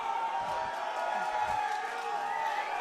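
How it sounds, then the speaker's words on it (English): A crowd at a Carter Roustio vs Ethan Bettud fight event roars steadily with cheers and whoops, a dense, sustained wash of noise from many voices filling the venue, with commentators talking faintly underneath. "Quite the pop from the crowd."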